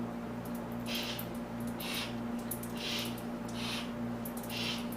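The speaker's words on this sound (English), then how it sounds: "the obligatory rolling the engine over with the wrench shot" A Bridgeported 13B rotary engine being turned over with a wrench, with slow rhythmic mechanical whooshes repeating about once per second over a low steady hum.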